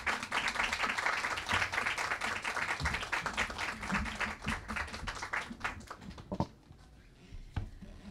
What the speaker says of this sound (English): please let's welcome them with an applause